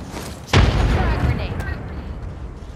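A frag grenade in the Apex Legends video game goes off with one sharp, loud boom that decays into a rumbling tail, followed by faint in-game gunfire and effects.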